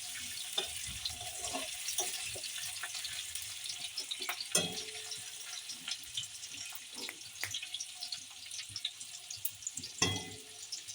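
Chopped onions sizzle in hot oil with cumin seeds in a wok, a steady close crackle broken by scattered clinks and stirring knocks.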